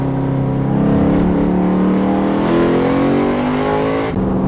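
A straight-piped 2014 Ford Mustang 5.0 V8 revs hard through a third-to-second gear downshift, its loud, raspy exhaust drone holding steady and rising before a brief dip near the end.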